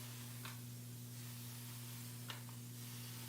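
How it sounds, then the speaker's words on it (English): A fine mist spray bottle filled with plain water gives two short, soft hissing puffs a couple of seconds apart, faint over a low background hum. "So I'm gonna spray it now with just a little bit of just regular water."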